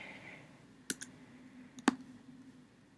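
Two sharp computer mouse clicks, each a quick double tap about a second apart, close and crisp over a faint background hum while a citation is cut and pasted.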